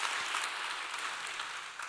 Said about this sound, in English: It feels so weird to take the applause for Tim Walz's applause line